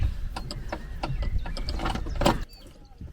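Handbrake of a T5 VW campervan being released, a rapid series of ratcheting clicks and a mechanical clunk at close range, ending in quiet.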